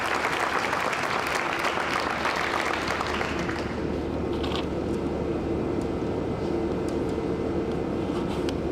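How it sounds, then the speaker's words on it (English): A crowd at a regular meeting claps steadily, a dense wash of applause that thins slightly toward the end, with a low rumble underneath. "You got to clap for her too."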